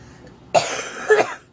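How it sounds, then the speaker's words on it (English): Two quick coughs close to the mic, the second one harsher, in an otherwise quiet room. "First, I'm going to cough"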